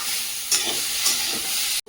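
Vegetables for a curry stir-fried in a pan, giving a steady broadband sizzle with a couple of brief scraping stirs, close and fairly loud, ending with a short knock.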